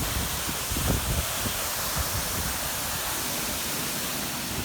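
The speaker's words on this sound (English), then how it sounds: "I don't know if you'll hear me over Mr. Waterfall as I approach it" A lake waterfall close by roars as a broad, constant rush of falling water that fills the whole clip without a break or any voice.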